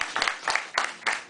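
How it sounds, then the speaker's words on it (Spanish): Applause from a small audience at a literary and arts café evening, several bursts of clapping in quick succession, fairly soft and close, with no voices. "Un aplauso"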